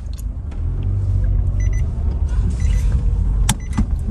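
A car drives along a road in Aqaba, Jordan with the handbrake engaged, giving a steady low rumble with brief clicks and rattles over it.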